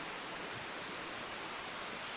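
A steady, even rush of falling water from a waterfall feeding a small creek, a constant broadband wash with no breaks or voices.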